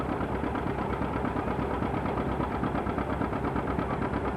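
An engine drives a threshing machine at speed at a 1985 farm threshing demonstration, producing a steady, loud, rhythmic mechanical drone with a fast pulsing beat and no talking.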